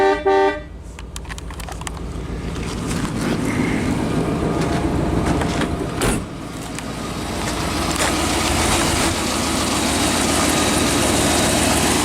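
A 1956 Lincoln Premiere car engine running loudly and steadily, a constant rumbling drone with a short horn-like tone near the start.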